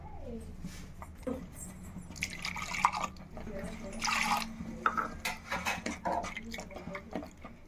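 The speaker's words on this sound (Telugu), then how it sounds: "ఇప్పుడు వాటర్ పోసుకుందాం" Water drips and trickles into a pan with soft liquid splashes and a few clinks of cookware, over a low background hum.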